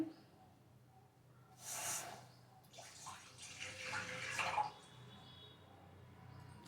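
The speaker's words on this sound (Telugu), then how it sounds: "సో నేనైతే వాటర్ వేసి తీసుకున్నాను." Water poured into a vessel while cooking, a brief gushing splash that rises and then trails off, moderately close against a quiet room hum.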